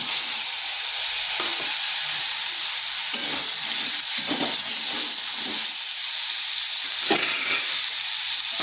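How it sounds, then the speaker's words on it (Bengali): Carrots and potatoes dropped into hot oil left after frying raw banana, sizzling loudly and continuously up close, with intermittent stirring scrapes. "ওই তেলের মধ্যে দিয়ে দিচ্ছি গাজর আর আলুগুলো।"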